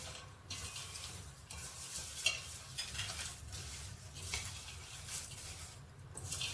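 Whole spices and red chillies are stirred while they fry in hot oil for a homemade masala: a steady close sizzle with repeated scraping stirs of a spoon against the pan, with no talking.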